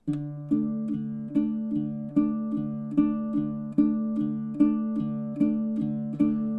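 A baritone ukulele picked fingerstyle plays a simple beginner two-chord song, with steady, evenly spaced plucked notes ringing close and clear on their own, without voices.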